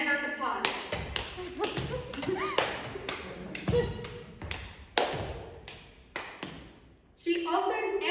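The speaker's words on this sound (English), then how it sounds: "She grabs the pot and a wooden spoon and bangs on the pot." A wooden spoon bangs on a pot: about a dozen loud, sharp metallic strikes in an uneven, frantic rhythm with brief pauses between, close and forceful.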